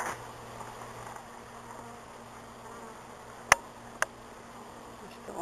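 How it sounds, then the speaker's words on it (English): A swarm of bees hums steadily and nearby during a bee removal, the droning unbroken while two sharp clicks or taps cut through partway along. "Still all these bees down below, and they're going to put them in a vacuum and take them away that way."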